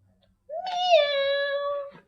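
A single long, drawn-out meow made by a human voice imitating a cat, rising then sliding down, alone in a quiet room.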